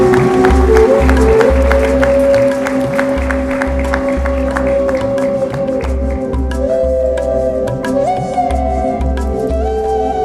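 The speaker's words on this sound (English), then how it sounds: "And now please bring on the applause for Tashan." Audience applause at a women authors' award ceremony, steady sustained clapping from a crowd over background music and voices, loud and continuous throughout.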